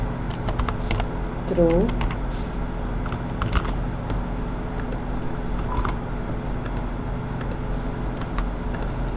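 Java code typed on a computer keyboard: scattered, fairly close key taps in an uneven rhythm under a steady background hum, with a brief spoken word partway through.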